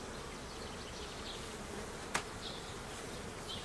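Honeybees from a swarm buzzing around a homemade hive box as they bring in pollen, a soft constant hum with one sharp click near the middle, faint and outdoors with no talk.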